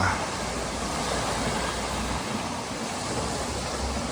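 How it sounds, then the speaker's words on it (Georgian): Waves wash onto the shore of the Tbilisi Sea reservoir in rough, windy weather at a carp-fishing camp, a steady close roar of surf with wind buffeting throughout. "იმხელა ტალღა იყო წარმოიდგინეთ რომ ანკესი გადმოაგდო როტპოდიდან"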